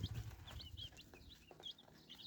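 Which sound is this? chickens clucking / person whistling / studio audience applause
chickens clucking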